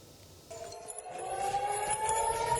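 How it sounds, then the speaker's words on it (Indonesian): An air raid siren warning of an Iranian missile attack on Israel starts up and wails steadily, a rising tone that holds at a sustained pitch at moderate distance. "sirine penanda serangan Iran terus berbunyi"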